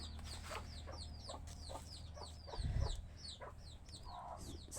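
A broody hen sitting on eggs clucks softly and repeatedly up close, with chirpy bird calls scattered around and a brief low rumble midway.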